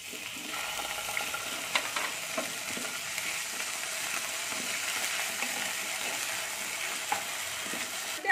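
Ginger paste frying in hot oil in a wok, added over toasted cumin seeds: a steady, close sizzle and crackle runs throughout, with occasional light clicks and scrapes of stirring.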